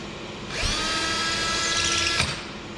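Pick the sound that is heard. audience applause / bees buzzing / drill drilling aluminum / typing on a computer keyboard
drill drilling aluminum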